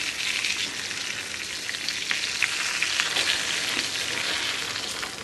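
Large tilapia deep-frying in hot oil, a steady dense sizzle and crackle with no letup, close and moderately loud throughout.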